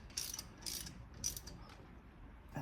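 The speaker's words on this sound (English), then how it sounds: "So I got my ratchet. I believe this is a 13 millimeter." A 13 mm ratchet set to tighten spins brake bolts on a 2008-2017 Buick Enclave, giving three short bursts of rapid metallic clicking, fairly faint over low background rumble.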